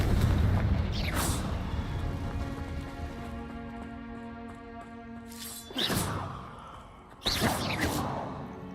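In Hogwarts Legacy, Confringo blasting spells go off with a booming burst and rushing debris, then a long resonant tonal ring, followed by two more sharp blast impacts close together near the end.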